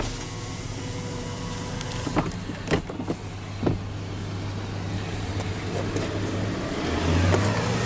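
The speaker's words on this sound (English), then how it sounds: "The windows are automatic down." Electric driver's window of a 2021 Jeep Wrangler Rubicon with the 3.6-litre eTorque engine lowering: a steady motor hum for about six seconds, then a change in pitch as it stops, with a few soft knocks along the way.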